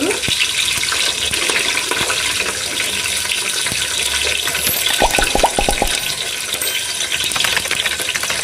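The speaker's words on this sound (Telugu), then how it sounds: "మనకి ఆయిల్ బాగా కాగింది కాబట్టి వేగిపోయినాయి ఇప్పుడు ఆనియన్స్ వేసుకుందాము సన్నగా కట్ చేసిన ఆనియన్స్" Thinly sliced onions frying in hot oil for chicken biryani, a continuous close hiss and crackle with a short run of sharp clanks near the middle.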